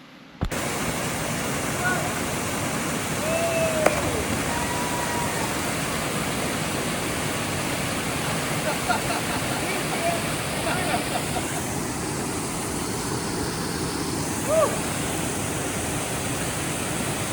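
A waterfall in the Ozarks pours steadily into a cold pool, a continuous broadband rush that stays loud and close for the whole stretch, with faint bits of voice now and then.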